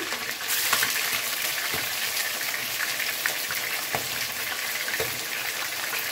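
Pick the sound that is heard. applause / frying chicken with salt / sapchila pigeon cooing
frying chicken with salt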